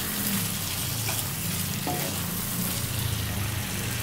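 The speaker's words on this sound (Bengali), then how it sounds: "আলুটা দিয়ে ভালো করে মিশিয়ে নিচ্ছি" Fried potatoes stirred into a sizzling jackfruit and prawn curry gravy in a pan: a dense, constant frying hiss with a couple of light spoon knocks, close by, with no talking.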